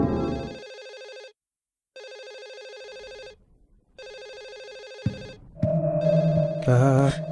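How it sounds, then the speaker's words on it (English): A telephone rings in the Silent Hill 4 video game, giving two long electronic ring bursts separated by silence, followed by a third ring overlaid with eerie, warbling haunting tones that swell louder at the end. "we've just got a ringing phone and the sound of hauntings"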